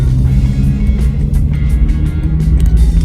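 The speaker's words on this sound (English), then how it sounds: "There's tons of traffic." Road traffic passes close by in winter, heavy low rumbling of vehicles with several whooshing swells as cars go past, loud and continuous, no speech.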